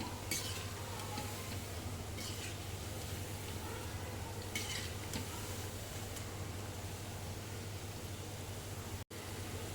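Lentil dal vadas deep frying in hot oil give a faint, steady bubbling sizzle with a few soft clicks and taps from the pan throughout.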